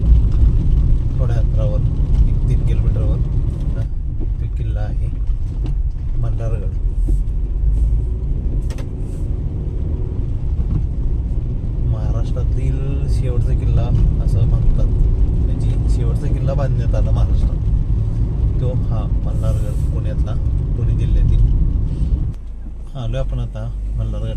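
A car engine hums and rumbles steadily as the vehicle drives along a road up toward Malhargad fort, with someone talking over it throughout and occasional bumps and rattles.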